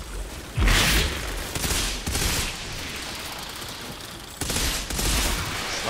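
A sniper rifle fires in the Outriders game with heavy, booming gunshots that repeat every second or so. Loud bursts ring out near the start and again near the end, over a continuous din of combat.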